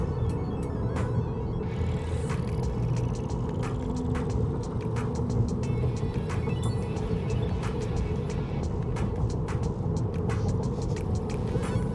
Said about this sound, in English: That's the suspension and the tires.